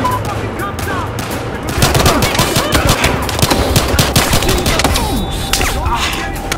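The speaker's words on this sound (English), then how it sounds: "13 reporting gunfire downtown." Gunfire in the video game Battlefield: Hardline during a downtown police shootout at a hotel: loud rapid automatic bursts and single shots crackle continuously, building in density after the opening second, with a voice briefly heard beneath.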